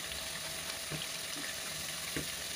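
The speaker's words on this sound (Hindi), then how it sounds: "ये देखें माशाल्लाह, आलू के पकोड़े हमारे गोल्डन होना शुरू हो चुके हैं, अब हम इन्हें पलट देंगे।" Potato pakoras fry in hot oil with a soft, steady sizzle and faint bubbling, quiet and close, with a few small pops and no talk.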